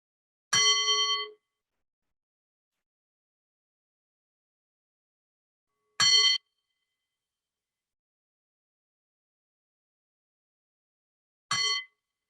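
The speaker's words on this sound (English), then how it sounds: "And we'll begin with 3 bells." Three struck meditation bells, each a single bright ringing tone with a short decay, spaced several seconds apart in otherwise complete silence.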